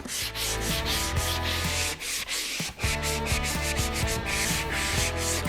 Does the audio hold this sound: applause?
no